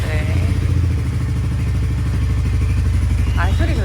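A Royal Enfield Hunter 350 motorcycle engine runs steadily just after an oil change, a close, loud, even idle thumping throughout with no voices.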